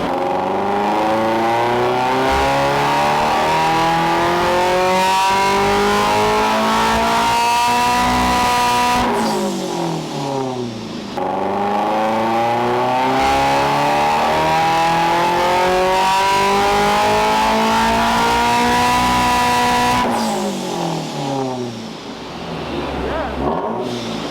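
A turbocharged Subaru BRZ engine roars and revs up repeatedly in long rising sweeps on a dyno, loud and close, with a voice talking faintly underneath.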